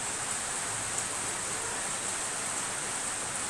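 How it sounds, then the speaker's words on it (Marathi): Heavy rain falling steadily, a dense even hiss with no breaks, fairly soft and continuous, with no talking. "हो का पाऊस लय आहे"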